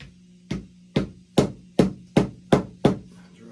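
A hammer drives a stainless steel bolt into a wooden DIY step stool with seven evenly spaced, solid, close blows about half a second apart, each one ringing out briefly. No one speaks.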